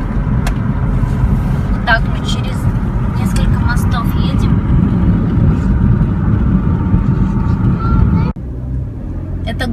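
Car cruising along a Florida coastal highway across several bridges, a steady loud road and engine rumble heard from inside, with voices at times and a brief dip in the noise near the end.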